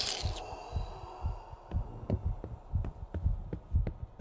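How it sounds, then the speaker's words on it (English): Thumping heartbeat effect from the horror video game Paranormal Cleanup: Bridle St., a steady run of low double thuds that grows gradually louder, with a brief bright burst at the very start. "That's my heartbeat."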